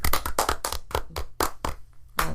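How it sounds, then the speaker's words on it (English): Hands clapping in a rapid, uneven run of about a dozen sharp claps over two seconds, close and fairly loud, two people trading claps with no talk. "I got the last clap in"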